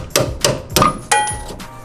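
Four sharp metallic clangs from a hammer striking a punch to knock out a bolt while fitting coilovers on an NA Miata, spaced roughly a quarter to a third of a second apart, close and loud, each with a brief ringing tail.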